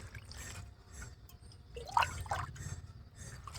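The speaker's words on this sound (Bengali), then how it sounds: "জল দিয়ে ভালো করে ধুয়ে তবে রেখে দিতে হবে" Chopped spinach being rinsed in water for palak paneer, with soft splashing and trickling around the middle over a low steady background hum, fairly quiet and close.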